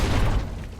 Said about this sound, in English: Dynamite!